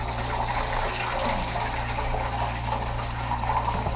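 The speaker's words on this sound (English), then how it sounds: "I'm filling up the second water tank first and see how things are going" Water gushes steadily into a boat's second water tank, a continuous close rushing and splashing hiss with a low steady hum underneath and no talking.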